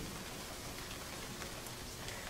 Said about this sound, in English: except for the rain